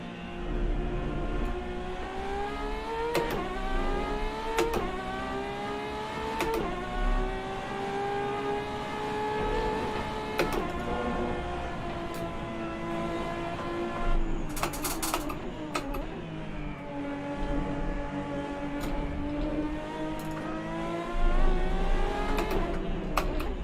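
Ferrari race car engine in a sim racing game at the Nurburgring, a continuous loud whining drone rising and falling through gear changes and revs, with brief bursts of tyre or kerb noise midway.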